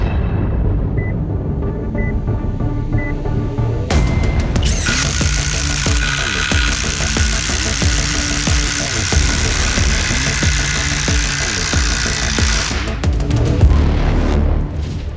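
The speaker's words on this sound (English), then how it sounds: "We're gonna be driving an 8-inch self-drilling screw into a 12x12 beam." A Flex impact driver sinks an 8-inch self-drilling screw into a 12x12 beam on a job site, giving a loud, sustained hammering rattle for about nine seconds that starts abruptly after quieter background noise and then stops.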